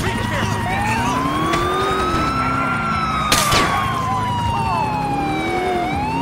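A wailing police car siren in the video game Grand Theft Auto IV, set in Liberty City, rises and falls steadily over constant traffic noise, with a brief sharp crash partway through.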